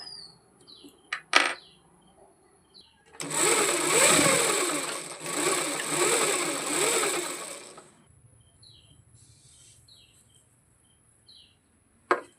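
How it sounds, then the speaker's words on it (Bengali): An electric sewing machine stitches a new customer's blouse in two loud, steady runs lasting about five seconds in total, then falls quiet apart from faint clicks and taps. "আজকে আমরা একটা ব্লাউজ কাটিং করলাম, এখন সেলাই করব।"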